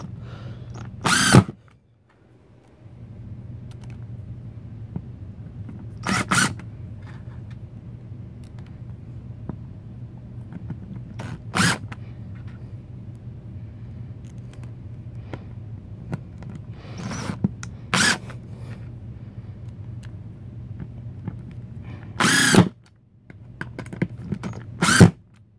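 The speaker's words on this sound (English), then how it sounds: "So this is where you need the screw gun." A screw gun drives screws into the leg mounting plates of an IKEA Linnmon table through pre-drilled holes, with loud, short whirring bursts spaced every few seconds over a quiet room hum.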